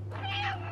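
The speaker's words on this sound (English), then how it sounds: "So, haven't meowed in a while." A cat in the video game Stray gives one short, clear meow over a steady low background hum, with no speech.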